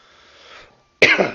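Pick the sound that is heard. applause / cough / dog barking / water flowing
cough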